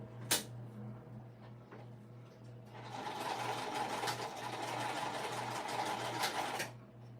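A sewing machine stitches straight across a crossbody bag to hold its straps in place: one sharp click, then a steady, fairly quiet run of stitching for about four seconds before it stops.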